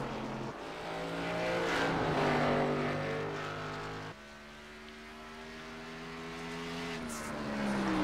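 A race car on a hot lap at Richmond Raceway in a racing video game, its engine whine climbing through the gears, dropping with a shift, then rising again, loud and continuous.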